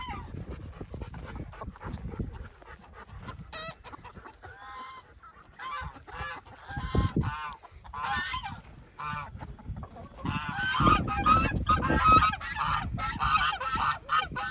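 Farm geese and chickens honk and squawk in a frightened clamor, loud and near, with a dog's panting mixed in and the birds growing louder and more frantic toward the end.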